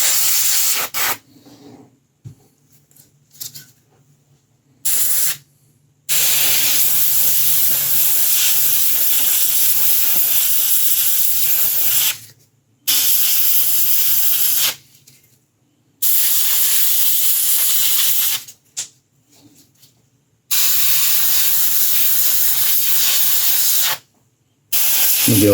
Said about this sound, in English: There'll be a lot of tight airbrush work on this